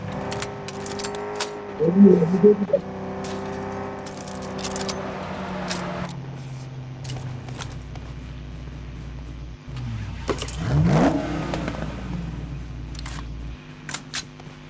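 A car engine in the video game PUBG drones and revs, climbing and falling in pitch, with clattering and jangling bursts around it.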